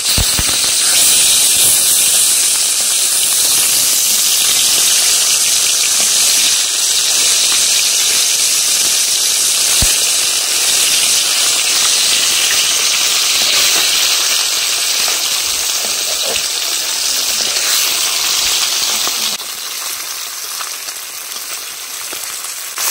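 Flipped bata fish keep frying in hot oil, giving a loud, continuous, crackling sizzle heard close up that stays steady for a long stretch before easing slightly near the end.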